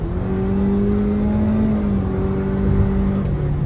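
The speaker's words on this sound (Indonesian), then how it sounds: "gue mau tiba-tiba ngegas," Hyundai Creta N Line accelerating suddenly, its engine giving a loud continuous drone with a climbing then dropping tone, close and alone without talk.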